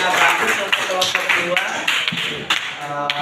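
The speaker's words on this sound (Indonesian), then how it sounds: "kasih tepuk tangan dulu dong untuk temannya" Applause from a classroom of students for a group that has just presented, a steady patter of many hands clapping close by, with children's voices chattering underneath.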